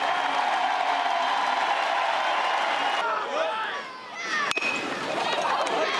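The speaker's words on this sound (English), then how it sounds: "listen to the ovation from this Chapel Hill crowd" A Chapel Hill college baseball crowd at a North Carolina home game gives a sustained ovation of cheering and applause, a loud broad roar that dips briefly near the end before swelling again, with a commentator's voice running over it.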